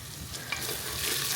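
Onions sizzle steadily in a pan as they fry to a light reddish-brown, a dense crackling hiss with a few scraping stirs, close and moderately loud with no voices.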